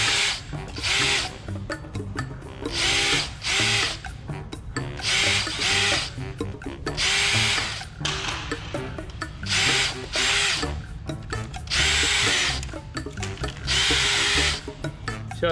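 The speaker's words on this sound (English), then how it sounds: "all the holes are drilled undersized and they need to be drilled" Power drill boring holes in an aircraft kit part for a vertical stabilizer, loud whining bursts of a few seconds each repeating with short pauses between, close and alone.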